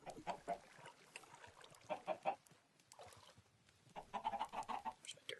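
Chickens clucking in the video game Minecraft with the FTB modpack, repeated clusters of close, clear clucks in three bursts with brief quiet gaps between them.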